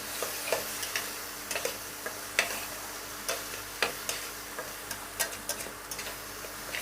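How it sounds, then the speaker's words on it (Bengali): Pointed gourd peel paste frying in a pan, a steady soft sizzle broken by regular light taps and scrapes of a spoon stirring, close and alone. "তো আমি এটা এখন 5 মিনিট এইভাবে ভেজে নেব নাড়া দিয়ে।"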